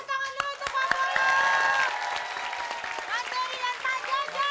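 Studio audience at a comedy show applauding and cheering, with sharp claps mixed with voices and tonal sounds, people talking and calling out over the clapping.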